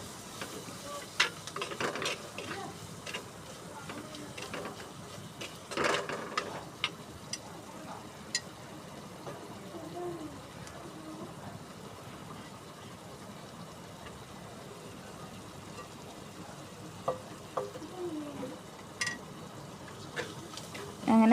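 Fish curry masala fries softly in a pan, with scattered clicks and scrapes of a stirring spoon over a faint continuous sizzle, quiet and close.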